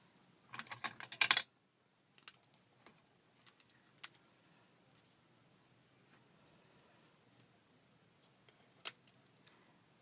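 Crafting shears snip through material for a cookie-cutter Christmas ornament, a quick burst of crisp cuts near the start, then a few sparse isolated clicks and one sharp snip later, close and otherwise quiet.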